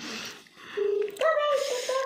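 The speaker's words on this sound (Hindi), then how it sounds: "मोनू के पापा को फोन किया जा रहा है" Phone dialing in a home kitchen during a rainy-day pakora cooking session: a short run of steady electronic tones and a ringback-like pitch, close and clear, following brief voices, lasting about two seconds.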